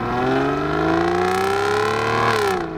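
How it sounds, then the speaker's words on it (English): A powerful Aston Martin V12 engine revs smoothly upward in a rising whine, then drops off as the throttle eases near the end. "The V12 sounds incredible."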